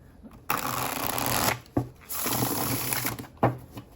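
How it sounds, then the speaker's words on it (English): Standard-size tarot cards are shuffled close up in two quick riffling bursts, a crisp fluttering rush followed by a short snap. "Let's give you the shuffles."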